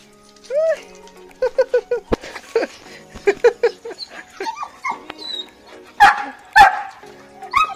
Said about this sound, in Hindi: बस स्कूबी अभी से ही भौंक रहा है